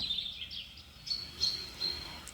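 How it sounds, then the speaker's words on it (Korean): Faint birdsong outdoors on a clear summer morning: a few thin, high chirps and short whistled notes spaced apart, soft and somewhat distant over a quiet background. "청명한 새소리를 들으며"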